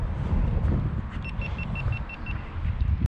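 A small Remo M Max RC car with swapped-on wheels drives with a steady motor whir and rumble. A short run of electronic beeps sounds partway through, and nobody speaks.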